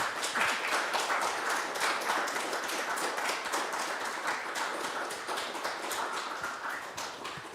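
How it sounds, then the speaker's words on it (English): Seminar audience in a hall giving a closing round of applause, a fairly quiet, continuous patter of many hands with individual claps standing out, steady throughout and easing slightly at the end. "Let's close with another round of applause."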